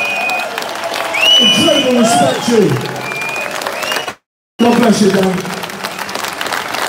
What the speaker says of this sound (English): massive round of applause for this man